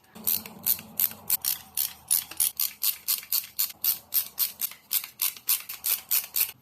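Small Phillips screws are backed out of the button assemblies on a Honda CR-Z steering wheel with a ratcheting driver, giving a close, steady run of quick rhythmic clicking bursts with no talking.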